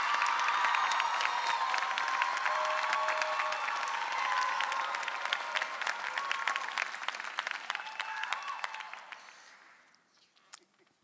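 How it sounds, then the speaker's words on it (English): Warm audience applause at the Mason Gross arts convocation honoring a retiring staff member, a large crowd clapping steadily with a few scattered cheers, gradually thinning and fading out near the end. "can we just applaud Jen Stoffer"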